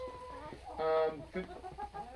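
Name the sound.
chicken clucking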